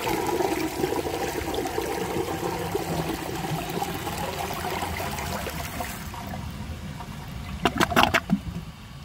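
A 1992 Universal-Rundle Atlas toilet, its tank filled to the top of the flush valve, flushes with a loud rushing swirl of water that drains off into quieter trickling, followed by a few sharp gurgling gulps near the end.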